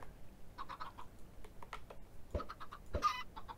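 Short clucks from chickens in a Minecraft survival-game chicken farm, several brief calls in a loose irregular run, fairly close, mixed with a few sharp clicking taps.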